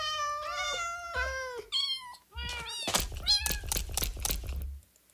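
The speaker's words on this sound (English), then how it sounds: "I'm gonna tame all the cats." Several cats in the Minecraft video game meow repeatedly, clear close mews one after another, then a run of sharp thumping clicks and scuffling noises takes over toward the end.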